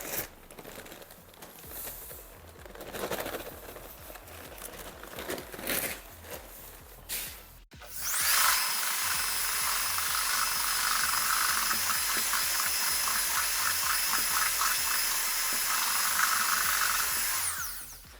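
Tile adhesive being mixed in a bucket, first quieter scraping and stirring, then a loud continuous whirring churn from a drill paddle that runs steadily to the end.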